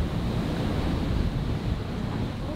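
Wind and waves on the open sea in the Pacific, a dense continuous roar of surf and gusting wind buffeting the microphone, loud and unbroken with no voices.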